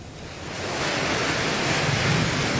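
Large storm waves crash onto the coast at Polewali Mandar, West Sulawesi, amid strong wind and heavy rain, a broad, steady roar of surf that swells over the first second and then holds loud and continuous, with no voices.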